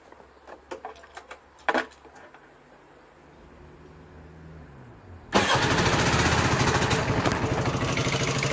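Peugeot Satelis Compressor 125 scooter: a few clicks and a cranking whir, then the engine catches abruptly and settles into a steady, even idle, fairly close.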